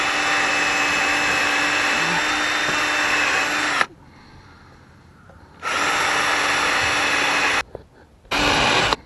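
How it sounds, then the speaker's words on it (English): A power drill whirs steadily for several seconds drilling pilot holes in wood for a raised planter, stops, then runs again in two shorter bursts with brief quiet gaps between. "we're going to pre-drill pilot holes to keep our wood from splitting"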